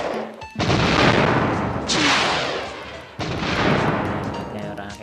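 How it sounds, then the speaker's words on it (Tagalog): In the Planet Smash video game, planets blow apart in a series of loud, booming blasts, each one rumbling heavily and lingering before fading. "hanggat sa sumabog"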